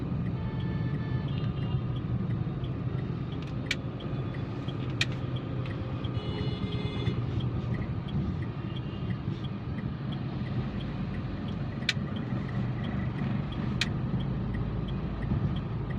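A car drives steadily along a road with a continuous low rumble of engine and tyres, broken by a few faint ticking clicks, with no voices.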